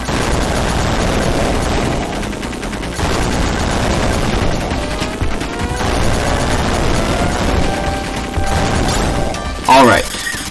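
Dense, continuous shooting and blasts from the Contra: Hard Corps video game, a loud, unbroken barrage of gunfire and explosions under game music, ending in a brief sharp burst near the end.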